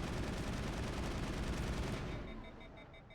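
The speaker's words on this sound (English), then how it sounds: "burst fire is the thing here" Rapid burst gunfire from a weapon in Mass Effect, a dense, loud stream of shots that cuts off and fades out over the last second.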